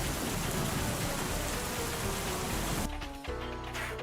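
A steady wash of morning rain hisses and patters close by, dense and even, before easing into a softer drizzle with a low hum beneath.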